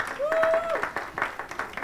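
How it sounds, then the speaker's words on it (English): Brief scattered applause from a conference audience at a mental health event, faint and short, with a voice speaking over the clapping. "So great round of applause for Srizana too."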